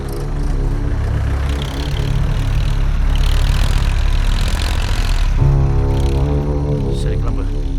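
A vehicle engine runs loud and close in a steady, rumbling idle, with a change in tone partway through as it settles, while voices speak over it.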